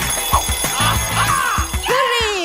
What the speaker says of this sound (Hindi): अरे, घंटी बज गई, छुट्टी।